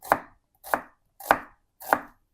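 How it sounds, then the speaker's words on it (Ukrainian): A kitchen knife chops a red onion into thin strips on a board for a salad with beetroot and herring: four crisp, evenly spaced chops, close and clear, with no talking. "сьогодні швидкий салат нарізаємо цибульку пір'ячком"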